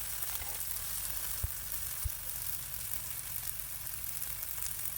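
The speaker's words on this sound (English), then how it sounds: "Seared it on all sides" A beef rib cap sears in hot rendered beef fat, giving a steady, close, hissing sizzle that fills the whole stretch, with two soft low thumps and no voices.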